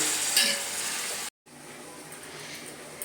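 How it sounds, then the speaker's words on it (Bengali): Marinated chicken sautéing in a pan, giving a steady hissing sizzle with faint stirring, cut off by a brief dropout, then continuing as quieter frying. "এবার আমি এইভাবে চিকেনটাকে কষিয়ে নেব"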